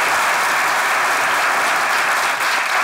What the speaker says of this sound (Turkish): Alkışlıyoruz Ayşegül.